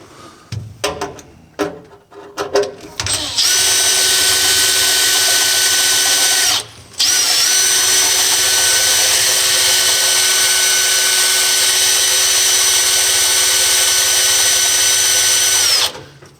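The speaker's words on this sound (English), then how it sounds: "Turns out it's very difficult to drill stainless steel." Power drill boring into stainless steel, a few short stuttering bursts at first, then a loud sustained high whine that cuts out briefly and starts again before stopping.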